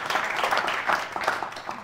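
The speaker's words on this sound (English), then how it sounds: "why don't you give yourselves another round of applause?" Lecture audience gives a short round of applause, moderate and slightly distant clapping that swells and fades over about two seconds.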